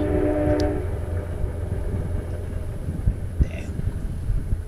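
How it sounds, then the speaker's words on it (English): A train passing in the background outdoors, a low steady rumble with a short horn blast at the start, fairly distant and continuous throughout. "here's another train coming from the other side"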